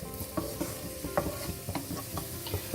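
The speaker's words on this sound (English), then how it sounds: "in goes some chopped garlic. We will be cooking this until the raw smell goes away" Chopped garlic frying in a pan for restaurant-style chili fish, a soft close sizzle with a quick rhythm of spatula taps and stirs.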